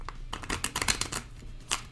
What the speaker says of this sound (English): You do a satisfying riffle shuffle.